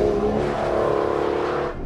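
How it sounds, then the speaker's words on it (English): A 2015 Aston Martin Vanquish accelerates hard on a hill route, its engine roaring loud and close with quick rising pitch changes as gears shift rapidly, then the sound drops off abruptly. "I think the first thing you hear is just the speed of the gear shifts."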